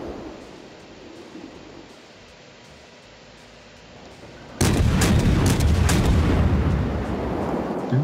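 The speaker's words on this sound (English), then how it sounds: "Opening fire." Loud, sustained gunfire bursts in a combat setting, starting abruptly partway through after a quieter stretch of ambient rumble, then continuing densely to the end.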